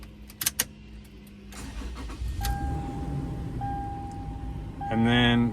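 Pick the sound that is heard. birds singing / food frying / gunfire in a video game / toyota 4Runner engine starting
toyota 4Runner engine starting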